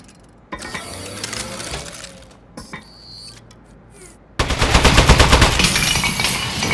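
Turret gunfire in Aperture Desk Job: mechanical whirring and clicking of the turret, then a loud sustained burst of rapid automatic fire at the end.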